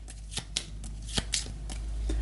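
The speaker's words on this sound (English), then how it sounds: "the Automa gets their deck shuffled with a new card in it" A deck of cards for the board game Gaia Project is shuffled by hand, a series of quick riffling bursts and soft slaps close by, with no talking.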